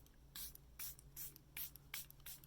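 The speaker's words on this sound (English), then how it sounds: "I like to give a good spritz." Several short hissing spritzes of makeup setting spray come in quick succession, close and soft, with no talking.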